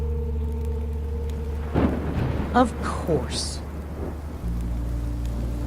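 Steady rain hiss in the video game Minecraft with low rumbling fills the scene, while a person speaks briefly over it partway through.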